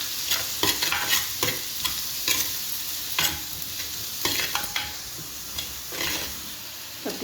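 Curry leaves sizzle and crackle in hot oil during khichdi cooking, a steady bright frying hiss up close. Irregular stirring scrapes and pops run through it, with no one talking.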